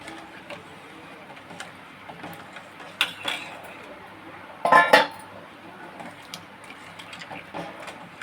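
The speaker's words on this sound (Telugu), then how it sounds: "ఇలాగ గరిటతో కలిపిస్తాను." A ladle stirs a pot of cooking rice and onions, giving sparse metallic clinks and scrapes, with one louder clattering burst midway against a quiet kitchen background.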